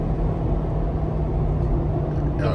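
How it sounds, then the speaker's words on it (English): A lifted Ford F-250's 6.7 Powerstroke diesel engine rumbles steadily under engine braking, a deep, continuous low drone, loud and close throughout, with no talking. "And then you hear that engine braking working too."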